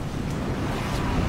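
Ocean waves wash steadily in Rec Room during a Titanic sinking scene, a continuous close roar of surf and wind-like rush with no clear breaks.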